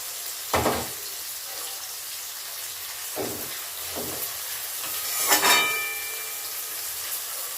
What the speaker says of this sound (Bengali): পেঁয়াজ কুচিও গোল্ডেন করে ভেজে নেবো